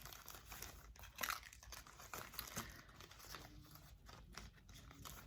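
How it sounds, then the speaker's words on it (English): Crinkling of plastic packaging as things are put away, a steady close rustle with sharper crackling bursts and no talk. "Pardon the crinkling."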